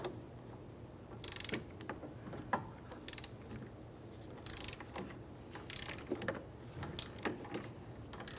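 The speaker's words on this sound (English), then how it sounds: "This will stop our hub from spinning while we torque the axle nut down." A torque wrench tightens the rear axle nut on a 2003-2011 Honda Element wheel hub, making repeated close ratcheting clicks in short bursts against a low background hum, with no talking.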